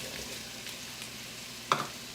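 Steady sizzling from a pan of chicken curry with potatoes, soft scraping as it is stirred, ending in a sharp clink of a utensil against the pan.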